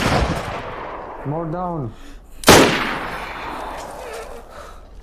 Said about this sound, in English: Grenade launcher again